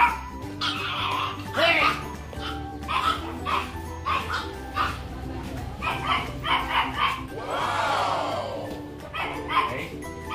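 A dog whimpers and yips close by, with sharp barks breaking in, while a person talks at points during training around cats.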